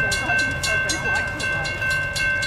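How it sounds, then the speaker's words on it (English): Amtrak Auto Train number 52 passes Folkston on track 2, a loud steady roll of rail cars with rhythmic wheel clatter on the track joints. "Amtrak train number 52, the auto train, coming by Folkston on track 2"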